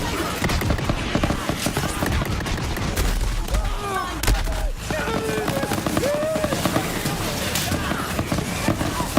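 Dense, constant gunfire fills a Borderlands 3 firefight, rapid shots and bursts crackling nonstop amid game effects, while a voice talks over it.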